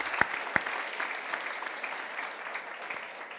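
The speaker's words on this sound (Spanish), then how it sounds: "Creo que Margarita debería llevarse en el corazón y en el recuerdo un aplauso de todos ustedes." An audience applauding Margarita at a conversation event on separation, a burst of clapping near the mic with a few sharp claps at the start, fading slightly toward the end, with no speech.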